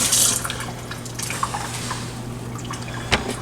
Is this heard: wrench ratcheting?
no